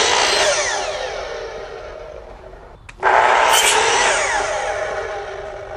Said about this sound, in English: I sand it off a little bit so that,